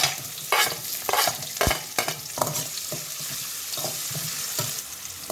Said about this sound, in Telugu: ఇవి కూడా ఆల్మోస్ట్ ఫ్రై అయిపోతున్నాయి కాబట్టి ఆనియన్స్ కూడా వేసేసుకుందాం